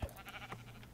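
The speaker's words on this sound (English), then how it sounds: "There's sheep." A sheep in the Minecraft video game gives a short, faint bleat, heard alone at low volume.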